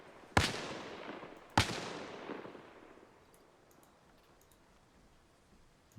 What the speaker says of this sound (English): I'm hearing consistent gunshots from this building, this direction